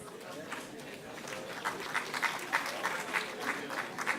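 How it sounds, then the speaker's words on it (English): Applause rises in a hall during a ministerial presentation of Nigeria's 2023 budget, faint scattered claps building into a quicker, denser round of clapping from a distant crowd, with murmured voices underneath. "From the round of applause,"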